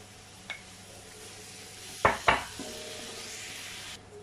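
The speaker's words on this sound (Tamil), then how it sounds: "தக்காளி வதங்கட்டும்" Tomatoes and onions sautéing in a pan for masala biryani, a faint sizzle broken by two sharp clatters of a spoon stirring against the pan.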